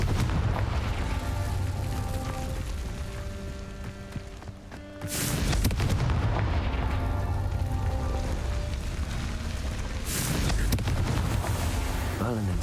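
Confringo blasting spell and Incendio fire spell cast in Hogwarts Legacy, two loud broadband bursts around five and ten seconds over a dense, continuous game soundtrack with explosions and effects throughout.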